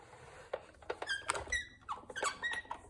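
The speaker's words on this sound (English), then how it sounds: "Mine has a lovely squeak to it." A Sizzix Big Kick die-cutting machine squeaking as its handle is cranked, a run of sharp, high, irregular squeals and creaks close by, with no talking.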